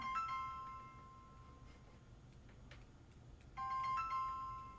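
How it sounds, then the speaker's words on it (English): A mobile phone ringtone plays as a repeating electronic melody, clear at the start, fading for a moment, then returning loud near the end with no voices over it. "Oops, my phone is ringing for whatever reason."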